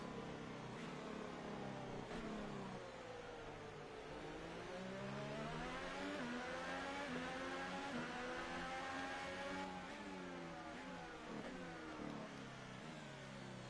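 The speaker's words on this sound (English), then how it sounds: "I love the way this McLaren Renault sounds at about" A high-revving McLaren Renault Formula 1 car engine in the F1 2018 video game screams steadily at the Bahrain race, pitch sweeping up and down through gear changes, loud and continuous throughout with no talking.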